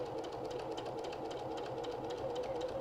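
An embroidery sewing machine stitches slowly along a seam of a machine-embroidered wall hanging, a steady close whirring hum with a fine regular needle rhythm and no talking.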